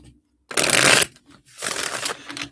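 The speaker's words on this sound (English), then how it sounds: "Let me shuffle these real quick." A deck of reading cards is shuffled in two quick, close, crisp riffling bursts separated by a short pause, with no talking.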